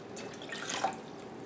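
Water poured into a pot to start a simmering liquid for cinnamon red hot pickles, a soft steady trickling with a brief brighter splash near the end, close and fairly quiet.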